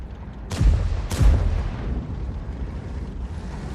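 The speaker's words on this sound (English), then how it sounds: "the shell lands in front of it, the rock face" M53 self-propelled artillery in World of Tanks fires, and the shell lands against a rock face: two sharp, heavy booms about half a second apart, each trailing into a rumbling tail over low background noise.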